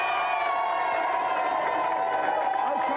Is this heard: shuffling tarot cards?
no